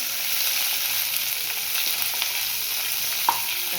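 Onions, green chilli and curry leaves frying in hot oil make a loud, continuous crackling sizzle with faint stirring, close and steady throughout, no voices.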